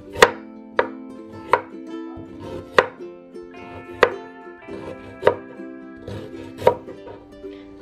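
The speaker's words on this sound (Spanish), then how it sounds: "Ahora el jengibre lo que voy a hacer es cortarlo así en pedacitos." A knife chops ginger into small pieces in a series of sharp, close knocks at an uneven pace, about nine chops in all, with no talking.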